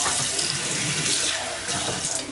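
Kitchen tap running steadily into a sink or container while cooking burritos, a close, continuous rushing splash with no talk.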